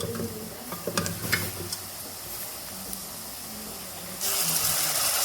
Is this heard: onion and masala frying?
yes